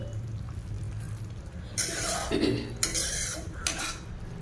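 A spoon scrapes and knocks around inside a pot as yogurt kurma curry is stirred, a few clear metallic strokes over a quiet background hum.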